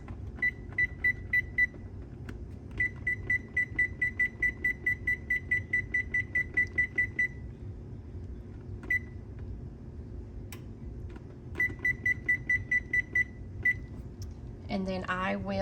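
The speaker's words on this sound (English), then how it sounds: "I'm gonna go ahead and set my timer" Electronic kitchen timer beeping in quick repeated runs while being set for 60 seconds, over a low hum from a stovetop pan of bubbling mixture for no-bake peanut butter cookies; the bursts stop and restart, with a brief voice at the end.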